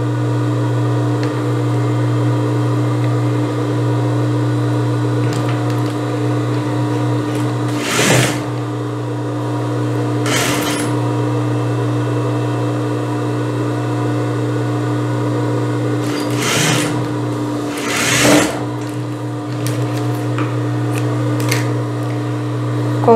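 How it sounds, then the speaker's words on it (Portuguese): A sewing machine stitches a blouse with an American armhole over a steady motor hum, with several short, louder bursts of running spaced through the stretch. "Agora eu vou virar aqui e vou costurar a outra parte frente."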